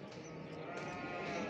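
Ewes with lambs bleat in a dense, overlapping chorus at a small-livestock market in Çorum, the steady flock noise filling the whole stretch at a moderate, even level.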